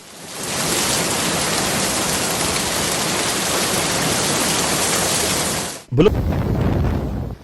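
Heavy rain pours in a dense, steady roar close to the microphone for several seconds, then an abrupt cut leads into a rougher, gustier stretch of downpour; no thunder stands out.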